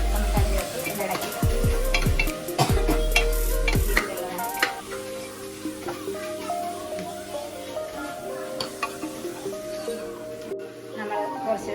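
Chicken masala being stirred as it fries in a pan for biryani, with clatters of a utensil against the pan early on over a steady sizzle, and voices talking throughout.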